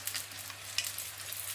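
Small homemade vegetable spring rolls (nems) frying together in a single batch of hot oil: a soft, steady, hissing sizzle with a faint low hum beneath and one brief crackle, quiet and continuous with no talking.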